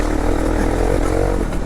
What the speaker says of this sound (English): I'm on board the Aprilia MXV450 here at Ashdown Farm, and what a bizarre motorcycle